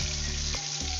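Pieces of hilsa fish fry in oil in a pan with a steady, loud sizzling crackle and a quick stirring or lifting clatter midway.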